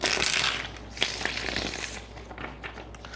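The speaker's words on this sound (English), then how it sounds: "Let's get one shuffle." Tarot cards being shuffled close up, a quick flurry of riffling and slapping that is loudest at the start, then settles into softer scattered taps.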